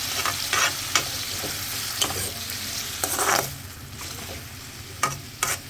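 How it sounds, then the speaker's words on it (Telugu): Tomatoes fry in a pan for a pachadi with a steady close sizzle, broken by repeated sharp scrapes and knocks of a stirring spoon, with no voices. "ఇప్పుడు నేను టమాటాలు వేసాను."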